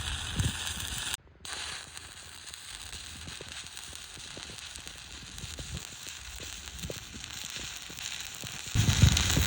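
A stick welding arc crackles and sputters steadily while a bead is laid, a continuous close, fairly quiet frying sound with small pops running throughout.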